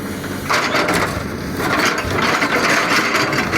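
Excavator bucket working soil in a garden, a dense continuous grinding and scraping mechanical clatter with creaking, steady and fairly close throughout with no voices.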